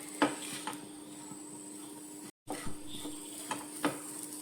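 Ration rice and coconut roast in a pan while being stirred, giving a faint dry sizzle with scattered scrapes and light knocks of the utensil. The sound is close and quiet, with a brief dropout midway and no speech.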